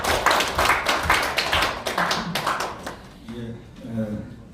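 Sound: audience applause

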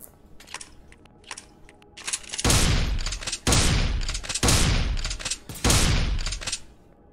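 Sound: alien enemies firing guns in a space-base video game

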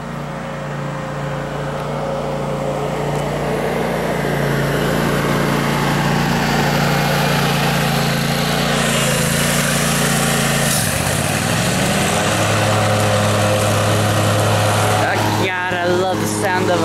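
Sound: Kohler engine running

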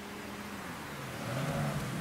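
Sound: car accelerating fast in video game Mafia III

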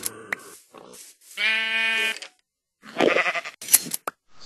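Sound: shears shearing a sheep in the video game Minecraft

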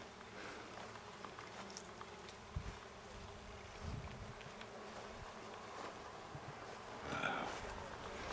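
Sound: bees buzzing on apple blossoms

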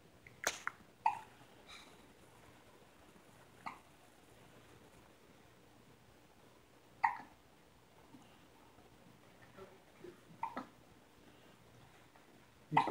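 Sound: baby hiccuping

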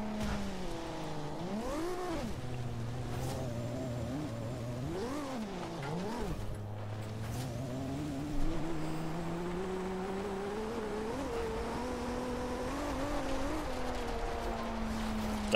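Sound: offroad Supra car driving in Forza Horizon 2 video game

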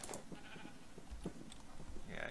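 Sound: sheep bleating in the video game Minecraft

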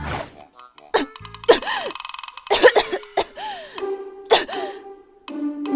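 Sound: woman coughing after being splashed with cold water

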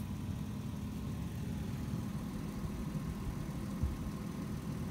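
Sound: engine idling

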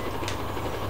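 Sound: train passing in Roblox Jailbreak video game

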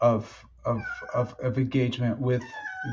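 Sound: cat meowing

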